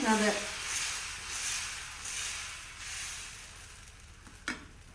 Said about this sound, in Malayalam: നമ്മളിത് അവിടെ ദോശ ഉണ്ടാക്കുകയാണ്